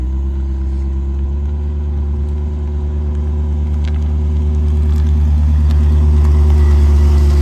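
A 1984 Chevrolet Corvette C4 engine idles with a deep, steady exhaust rumble, close and loud, growing slightly stronger toward the end with no talking.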